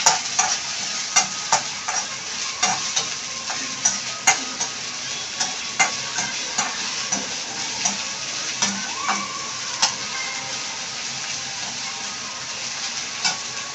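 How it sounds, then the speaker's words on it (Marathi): Onion frying on low gas in a pan for paneer bhurji, a steady soft sizzle with repeated light stirring clicks and scrapes throughout, close and alone. "मंद गॅसवर एक कांदा टाकते मी। कांदा थोडा नरम करून घेते मी।"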